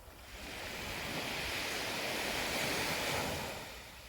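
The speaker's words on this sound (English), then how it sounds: "enjoying the sound of the waves" Steady broadband surf rushes continuously onto a red sand beach in Torridon, Scotland, swelling and then easing off near the end, with a faint wind-like hiss throughout and no voices.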